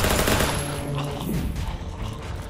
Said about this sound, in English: I hear my boys firing outside